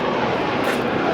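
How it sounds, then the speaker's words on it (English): A steady, broad roar of an airplane passes overhead, constant and moderately loud throughout the short moment. "Damn airplanes. Make noise."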